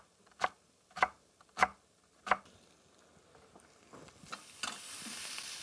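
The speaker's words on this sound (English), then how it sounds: "I got a little bit of hot sausage sauteing in my frying pan there" Four sharp, evenly spaced clatters of a utensil in a pan, then a soft, rising hiss and crackle of hot sausage frying.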